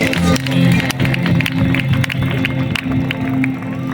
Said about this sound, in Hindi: और जोर से बजा सकते हैं, क्योंकि आप अपनी मोहब्बत का इजहार इन तालियों से करेंगे